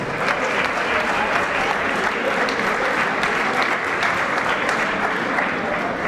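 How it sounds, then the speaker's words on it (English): A big round of applause for boxers at a South African fight night. Dense, sustained clapping from a large arena crowd holds steady and loud for several seconds. "Wonderful boxers, a big round of applause"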